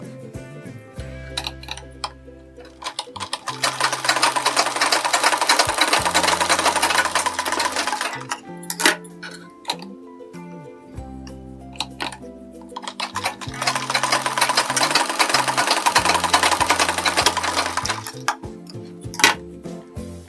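A sewing machine stitches a blouse sleeve in two long, fast whirring runs, each several seconds, separated by a pause with light clicks and handling noises.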